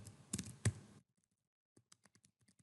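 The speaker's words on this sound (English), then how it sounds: "So I'm going to type something back." Someone types a chat reply on a computer keyboard during a live collaborative document session: a few louder clacks early on, then a quiet pause, then a light, evenly spaced run of soft keystrokes close by.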